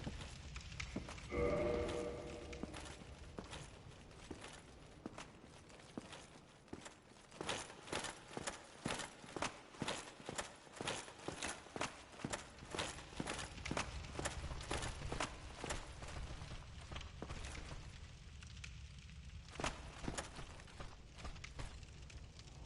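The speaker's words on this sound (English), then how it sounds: "I hear their footsteps." Enemy footsteps in the video game Dark Souls, a long run of quiet, regular hard steps thudding one after another at a walking pace, with faint background ambience and no talk.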